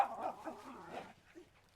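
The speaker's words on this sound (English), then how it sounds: "you're distracted by the dogs" Farm dogs at an abandoned property, heard as soft whimpering yips and low barks fading out toward the end, fairly faint and somewhat distant, with no talk.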